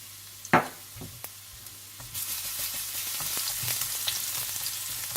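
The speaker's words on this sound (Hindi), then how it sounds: "ऑयल गर्म हो जाए तो आप इसमें डाल दें लहसुन और थोड़ा सा फ्राई कर दें।" Sizzling of garlic in hot oil, a steady crackling hiss that swells after a couple of soft clinks and continues close and loud.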